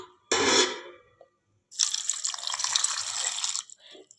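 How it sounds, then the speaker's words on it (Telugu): Water pours into a cooking pot holding amla, garlic and salt for a pepper rasam: a short splash, a pause, then a longer steady gushing pour, close and fairly loud. "ఇప్పుడు మనము వాటర్ అయితే పోసుకుందాం"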